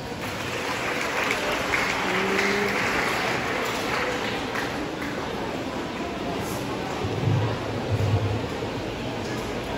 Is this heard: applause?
yes